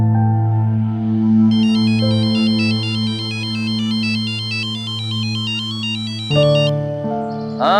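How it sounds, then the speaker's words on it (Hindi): A phone rings steadily while a call to Amit is placed, a repeating electronic ringtone melody that sounds loud and close and runs on without pause with no voices. "फोन कर लेती हूँ अमित को।"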